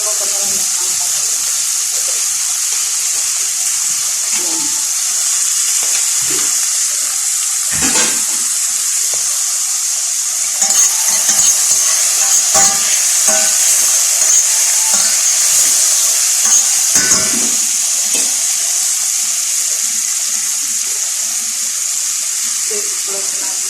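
Bitter gourd (ampalaya) stir-fries in a hot pan with a loud, steady hiss and sizzle that runs throughout, dotted with occasional clinks and scrapes of stirring.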